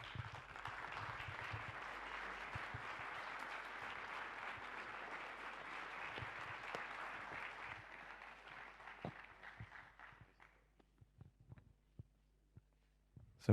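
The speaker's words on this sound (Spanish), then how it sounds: "A ambos los recibimos con un fuerte aplauso." Audience applause welcoming speakers at a talk, a steady wash of clapping for about eight seconds that thins into scattered individual claps and fades out.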